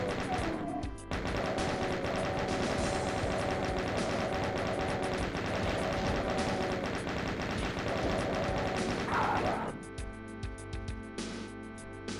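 Rapid continuous gunfire from the classic shooter Doom, loud and dense for nearly ten seconds, then a few sparser shots as the burst trails off, with no talking.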